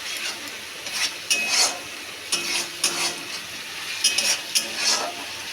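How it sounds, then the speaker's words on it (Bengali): Spices for biuli dal fry in a pan while a spoon stirs and scrapes them, bursts of sizzle and metallic scraping recurring at an uneven pace, close and fairly loud with no talking. "এই যে মশলাটা ভাজা ভাজা হয়ে এসেছে"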